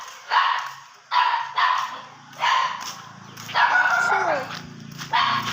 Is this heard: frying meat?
no